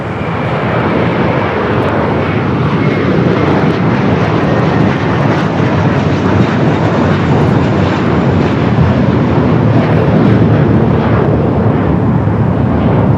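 A SkyWest airliner roars down a Los Angeles airport runway on takeoff, a loud, steady jet engine rumble that fills the whole stretch with no break.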